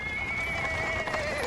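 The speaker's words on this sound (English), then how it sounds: "A cart drawn by a sad little horse appears from around the corner." A small horse pulling a cart in Pathfinder: Wrath of the Righteous, a steady tonal neigh-like whinny held over soft clopping and wheel rumble on paving stones, moderately near and fairly quiet.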